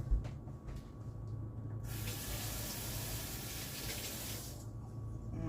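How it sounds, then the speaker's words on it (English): A kitchen tap gushes for a few seconds while hands are washed, a steady close hiss of running water that starts and stops abruptly, with no talking. "Let me wash my hands real quick."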